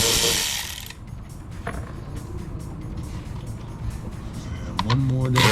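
Repeated clicking of a ratchet loosening screws on a 2021 Jeep JL cold air intake, close and steady, with someone talking over it and a brief squeak near the end.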